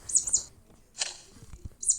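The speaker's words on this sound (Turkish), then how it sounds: "Kuş da yatıyor burada." Bird chirps from the video game Toca Boca come in quick high bursts at the start, middle and end, with quiet low rumbles in between.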